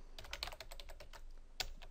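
Quick, light keystrokes on a computer keyboard as a folder name is typed, a brisk run of soft clicks close up in a quiet room.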